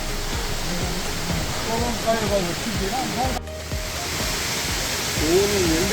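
A mountain valley stream on Baegunsan near Gwangyang flows in a steady, full rushing wash, with a person talking over the water throughout.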